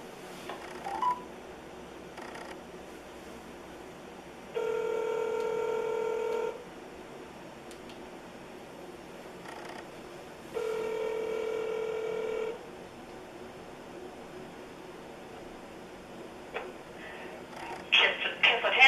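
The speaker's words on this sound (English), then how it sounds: "Let's call them up and see what they have to say." Touch-tone beeps from a phone being dialed for a call about tent repairs come in two bursts of steady multi-tone dialing, each lasting about two seconds, over quiet room noise, with faint clicks and rustle toward the end.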